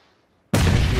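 A grenade blast in a PUBG Mobile tournament match, a sudden loud boom after a near-silent moment that roars on to the end.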